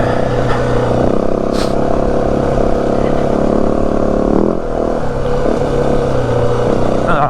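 A 2025 Yamaha WR 450F dirt bike engine drones steadily and loudly up a big hill in the Santa Rita mountains. The rider's engine note stays near and continuous, with small throttle shifts along the way.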